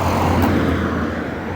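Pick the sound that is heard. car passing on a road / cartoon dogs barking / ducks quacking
car passing on a road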